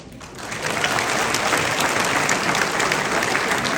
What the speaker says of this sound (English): Big round of applause for Mr. James Robaczewski, President of the